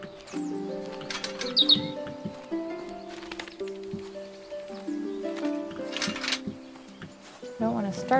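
Bird chirps in the video game Botany Manor, a few brief, high tweets scattered over soft, sustained game music, with a voice talking through the passage.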